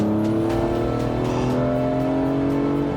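A BMW E46 M3 engine sings through a downshift, its loud, continuous note holding steady harmonics that rise and fall as the revs change, close and alone with no talk.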